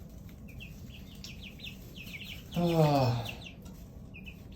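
Backyard chickens on a perch stick let out one clear, loud descending squawk-cluck, with faint chirping birds in the background and a soft voice nearby.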